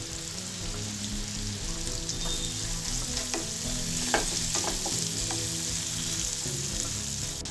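Onion pieces with curry leaves and turmeric fry in a pan for cauliflower masala curry, a steady close sizzle broken by sharp crackles and stirring scrapes, with no talking.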